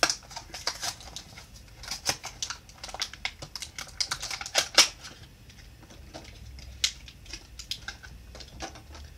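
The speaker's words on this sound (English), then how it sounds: "I love that sound when you're cracking something open, huh?" Plastic blister packaging of a new 2019 Matchbox toy car being cracked and torn open, giving a run of close, sharp crackles and snaps with no talking.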